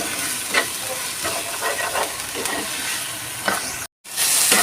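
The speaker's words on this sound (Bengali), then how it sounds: "পেঁয়াজ আদা রসুনটা ভালো করে ভাজা হয়ে গেছে" Onion, ginger and garlic frying in a pan, a steady close sizzle with scraping stirs and a brief cut near the end before the frying resumes louder.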